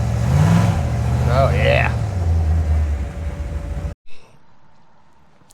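A 1972 Chevrolet Nova with a 6.0 engine, running rich, roars at wide open throttle with a deep, loud rumble that cuts off abruptly, a voice speaking briefly over it.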